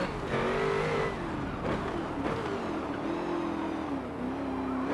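A Ferrari race car engine in Forza Motorsport 7 holds a steady high whine, rising and falling with gear changes and revs, close and continuous with no talk.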